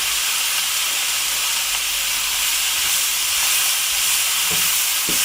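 Dried mushrooms sauté with melting butter, giving a loud, constant close hiss of frying with a couple of faint knocks near the end.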